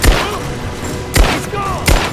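Three sharp gunshots ring out in Rise of the Tomb Raider, spaced unevenly and loud and close, each one ending in a short ringing tail over a low ambient background.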